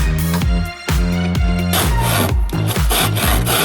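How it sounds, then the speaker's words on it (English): A saw cutting through scrap pipe for homemade instruments, in steady back-and-forth strokes that are loud and close, with a harsh rasping buzz and a short pause partway through. "I'm going to start cutting some stuff"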